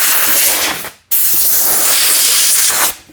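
Air hose blowing wood stain overspray off a cabinet: close, loud hissing blasts in two bursts with a brief silent gap between and a short blast at the end.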